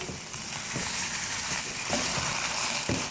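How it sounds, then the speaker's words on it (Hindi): Chicken pieces frying in onion and ginger-garlic paste for a chicken okra masala, a steady close sizzle with faint stirring scrapes throughout. "चिकन को हम प्याज और जिंजर गार्लिक पेस्ट में फ्राई करेंगे अच्छी तरह से।"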